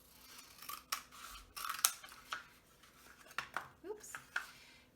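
Scissors snip through paper rolls for an art lesson, giving a string of sharp, close clicks and snips at an uneven rhythm, fairly quiet, with occasional light handling noise and a voice in between.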